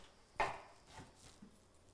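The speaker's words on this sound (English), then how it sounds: "we're just chopping this up into bite-sized pieces" A knife chops food into bite-sized pieces on a cutting board, one sharp close knock followed by a few softer, scattered cuts in a quiet kitchen.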